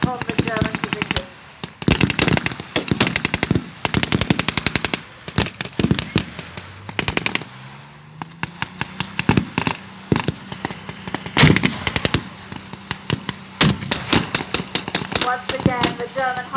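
World War II battle machine guns fire in rapid, sharp bursts, loud and close, separated by brief pauses, with a low engine rumble rising in the middle before the chattering volleys resume.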